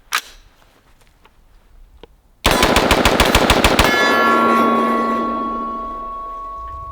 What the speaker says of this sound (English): let's go ahead and mag dump this and see how quickly I can dump 10 rounds